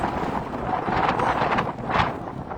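Strong wind in a snowstorm roars and buffets against the microphone in a continuous, rushing wash of noise that swells and dips.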